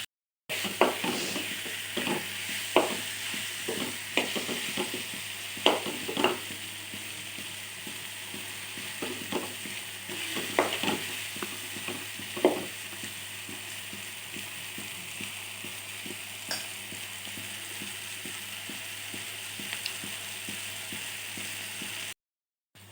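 Tomatoes for tomato pickle frying in a pan, a steady sizzling hiss with scattered crackles and pops running close and continuous until it cuts off near the end.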